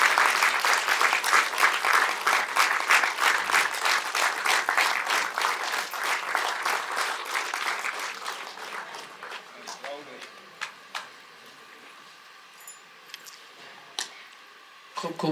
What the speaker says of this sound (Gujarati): એક વખત તાળીઓના ગડગડા સાથે સાહેબને વધાવી લઈએ.